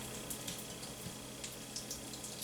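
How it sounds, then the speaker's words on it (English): Food dropped into hot frying grease sizzles and hisses continuously, a dense crackling wash that stays steady and close throughout. "I love that sizzle."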